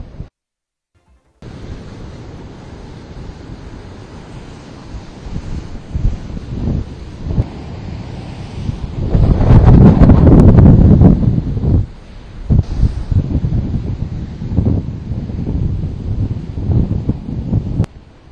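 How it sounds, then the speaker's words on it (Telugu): Strong wind roars into the microphone with heavy surf rumbling underneath on Uppada beach near Kakinada during Cyclone Montha, surging loudly midway and then easing back to a gusty, churning background. "భారీ ఎత్తున ఎగసి పడుతున్న రాకాసి అలలు కాకినాడ బీచ్ పరిసరాల్లో మనకు కనిపిస్తూ ఉన్నాయి"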